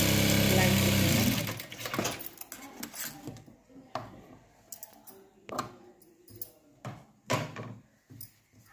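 A sewing machine stitches a blouse piece in a dense, loud whirring run that stops after a second or so. Scattered clicks and handling knocks follow while someone talks.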